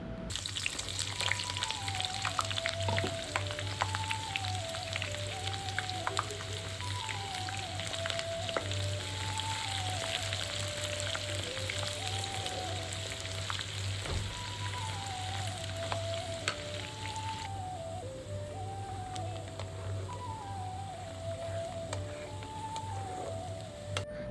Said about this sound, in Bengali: পেঁয়াজটাকে আমি হালকা করে একটু ভেজে নিব কিছুটা নরম করে ভাজবো